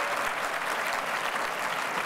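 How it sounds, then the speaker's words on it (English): A conference audience claps as its vote for a startup pitch in a Shark Tank-style contest, a sustained, even wash of many hands at moderate volume, with no one speaking over it. "if you were going to put your money into Parity, please clap"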